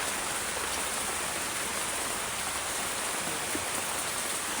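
Steady, heavy rainfall roars without pause, a thick continuous wash of drops hitting surfaces close by.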